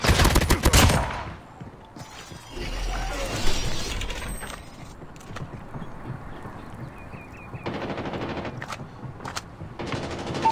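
Rapid gunfire in the video game Call of Duty, a loud opening burst followed by scattered shots, impacts and later dense clattering fire over a busy battle soundscape.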